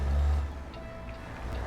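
A Kenworth W900 truck with a Caterpillar C10 engine in American Truck Simulator gives a low, heavy diesel rumble, loudest at the start and then settling into a steady drone.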